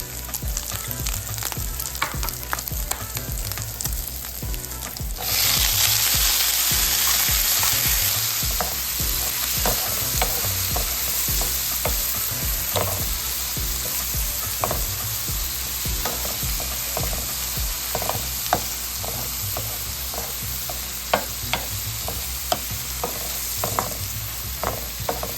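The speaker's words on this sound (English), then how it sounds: "I'm going to add my onion and cook until the onion is translucent." Potatoes and chorizo fry with onion in a pan, a loud, steady sizzle that keeps going throughout, broken by scattered stirring clicks and scrapes.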